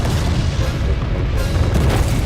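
A missile strike explodes against Godzilla on screen in a film, a loud, continuous deep boom with rumbling low end that holds steady throughout with no voices.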